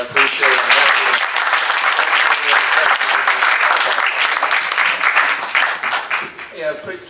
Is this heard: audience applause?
yes